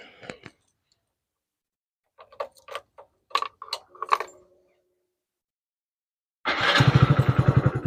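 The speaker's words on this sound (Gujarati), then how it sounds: "તો ચાલો આપણે બાઇક સ્ટાર્ટ કરી લઈએ" A motorcycle is started: a few light clicks and key-like rattles, a stretch of silence, then the engine catches and settles into a loud, steady, throbbing idle close by.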